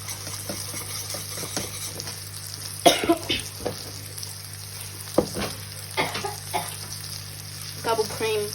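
Venison steaks and onions sizzle in a frying pan, a steady faint hiss under occasional clatter, stirring and a cough.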